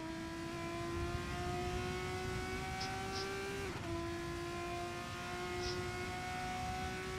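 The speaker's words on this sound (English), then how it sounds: "We should have car sounds there." Race car engines from a racing simulator at the Interlagos circuit: a sustained high revving whine that climbs, drops sharply at a gear shift midway, then climbs again, with no commentary over it.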